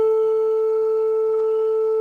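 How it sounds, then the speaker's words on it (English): A pure sine wave tone, a single steady unwavering pitch held at constant loudness for about two seconds. "So this is the sound of sine wave."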